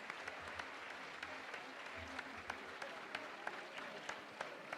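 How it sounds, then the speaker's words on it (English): Competitors at a world jigsaw puzzle championship couples final applaud themselves, a soft, steady patter of many hands in a large room with a few sharper claps standing out, fairly faint and without talk. "You should give a big applause to yourself."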